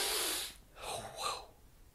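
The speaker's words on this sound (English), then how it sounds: "That was an intense sniff." A single intense nasal sniff, close and fairly quiet, with a short breathy hiss followed by two quick sniffing pulls and no talking.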